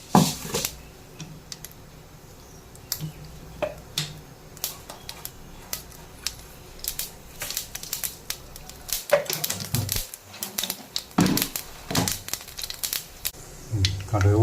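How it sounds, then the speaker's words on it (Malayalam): Mustard seeds pop in hot coconut oil in a pan, sharp irregular crackles and snaps bursting sporadically, some close and loud, with someone talking throughout. "കടുക് പൊട്ടട്ടെ"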